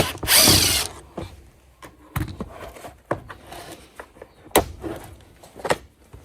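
A power screwdriver backs a screw out of the plastic case of a Bissell PowerForce Helix vacuum, heard as a loud opening whir followed by several short, close bursts of motor and clicking ratchet, with no talk.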